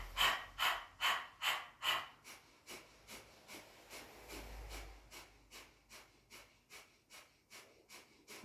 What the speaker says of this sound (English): start to breathe in and out through your nose